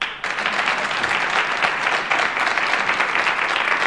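A comedy show's audience bursts into applause after a brief pause, the clapping quickly swelling into a loud, dense, continuous crowd sound that holds steadily to the end.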